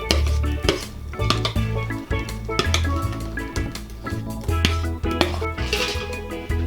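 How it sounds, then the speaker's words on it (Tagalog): Mango puree being stirred into a cornstarch mixture in a pot, with clinking utensil-on-pot scrapes and stirring sounds repeating close by over steady background music, no talking. "Hahaluin lang po natin para mag-blend po yung ating mixture."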